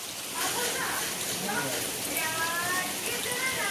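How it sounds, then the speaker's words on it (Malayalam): Light rain patters steadily across the whole stretch, a soft broadband hiss with faint voices murmuring underneath. "ചെറുതായിട്ട് മഴ ഉണ്ട്."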